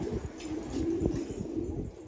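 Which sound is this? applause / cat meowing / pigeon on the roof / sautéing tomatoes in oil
pigeon on the roof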